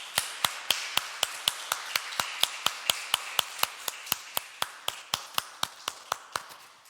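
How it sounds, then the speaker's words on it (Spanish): A church congregation clapping in a steady, even rhythm, around twenty sharp, evenly spaced claps that are clear and fairly close, with no talk over them. "Damos un aplauso a Dios."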